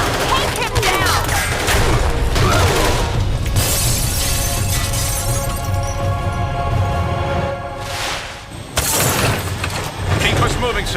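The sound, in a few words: tranquilizer darts being fired, from the video game Marvel Ultimate Alliance 2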